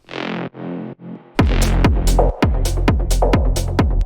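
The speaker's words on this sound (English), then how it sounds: "Now you can hear this fat step sound" Heavy distorted techno bass stabs hit in a steady, pounding rhythm after three short droning tones, each hit thick, punchy and loud, sidechained in a driving peak-time techno track.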